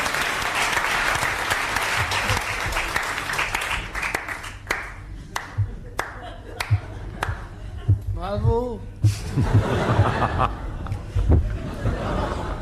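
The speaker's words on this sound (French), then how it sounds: "Applaudis-le." Studio audience applause on a 1982 French television game show, a sustained patter of clapping with scattered sharp claps and laughter, running under an announcer's voice.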